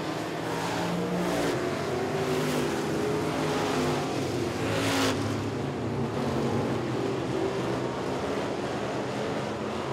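Stock cars race around a dirt oval at Tri-County Racetrack in a weekly division event, with a steady, loud roar of engines revving and passing nearby, rising and falling throughout.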